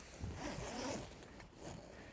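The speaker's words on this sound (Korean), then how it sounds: "지퍼 다 끼는 거 보세요." A Korean-made zipper is drawn along the floor seam of a Korean-produced camping air tent in one smooth, continuous rasping pull, quiet and close, with fabric rustle.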